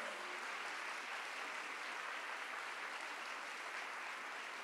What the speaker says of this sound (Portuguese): Mais uma salva de palmas, por favor.